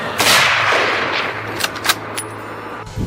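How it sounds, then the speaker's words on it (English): A single loud hunting rifle shot during a wild boar hunt cracks up close, followed by a long rolling echo and a few smaller distant pops as it fades. "a thunderous gunshot shattered the stillness"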